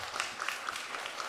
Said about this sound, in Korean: 그럼 박수 한번 쳐봐요.